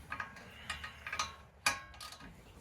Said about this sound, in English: Get our 17 millimeter and we'll get this tightened back down. So 17 millimeter, in this case the 1/2 inch drive gear wrench.